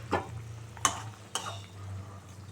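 Pieces of fried eggplant dropped into a simmering bhola fish curry with tomato in a pan: three short, soft splashy sizzles spaced apart over a low steady hum, quiet and close with no talking.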